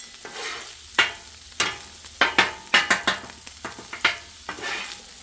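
Egg frying in a pan for bacon fried rice, stirred with a utensil: a soft sizzle under a dozen or so irregular sharp scrapes and taps against the pan, close and fairly quiet.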